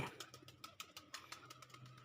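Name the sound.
pigeons cooing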